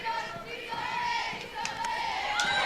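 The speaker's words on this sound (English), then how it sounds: "the crowd absolutely erupted uproariously," Crowd at a college softball game between Oregon and Liberty cheering and yelling after a replay review, a broad, distant roar with scattered shouts, sustained and moderately loud.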